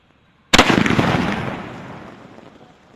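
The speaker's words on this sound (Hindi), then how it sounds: "ट्रोल्स वाले स्काई शॉट को जला के देखते हैं हमारा ये स्काई शॉट कैसा फटता है।" A sky shot firework from a batch of Indian crackers goes off with a sudden loud bang after a short silence, then a dense crackling burst that slowly fades over the next couple of seconds.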